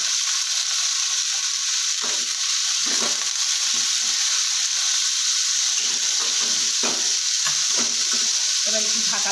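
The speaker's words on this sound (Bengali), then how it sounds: "আর গাজর বাঁধাকপিটা কেটে রেখেছিলাম ওটা দিয়ে ভালো করে একটু ঢাকা দিয়ে ভেজে নেবো" Chopped potato, carrot and cabbage fry in a covered pan, giving a continuous loud sizzle with scraping stirring knocks scattered throughout and no voices.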